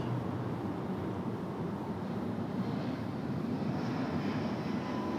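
A Southwest airliner departing Raleigh-Durham International Airport, a distant, steady broadband engine roar with wind rushing at the microphone, even and unbroken for the whole stretch.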